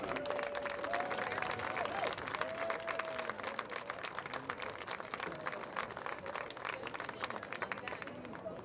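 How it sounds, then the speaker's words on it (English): A grandstand crowd at a varsity high school football senior night applauds steadily, a dense wash of clapping and cheering heard from a distance, continuing throughout. "Let's have one more big round of applause for all of our seniors tonight."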